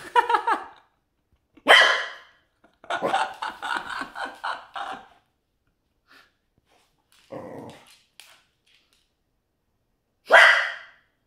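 A corgi barks in short bursts, single sharp barks and a quick rapid run of them, with pauses of silence between; close and loud.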